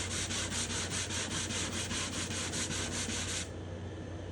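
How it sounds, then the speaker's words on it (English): Sandpaper is rubbed by hand over a spruce guitar top to remove shellac finish, producing quick, rhythmic back-and-forth scratching strokes, close and clear, stopping abruptly near the end. "every time I switch to a new piece of sandpaper, it takes off a little bit more shellac."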